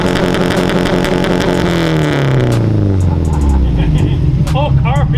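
A heavily modified 650 WHP Subaru WRX STI with ported turbo housings revs hard, its loud engine and exhaust drone sweeping down in pitch as the car pulls away, with voices talking over it.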